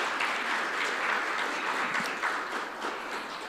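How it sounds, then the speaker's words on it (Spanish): Sustained applause from a church congregation fills the room, a dense, steady wash of many hands clapping at an even level before tapering slightly toward the end, with no speech over it. "Démosle un aplauso a nuestro Señor."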